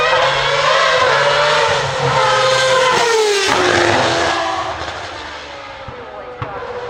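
Loud racing cars at the Goodwood Festival of Speed, engines roaring and shifting pitch as they pass close by, the roar swelling and then easing off, with crowd noise underneath.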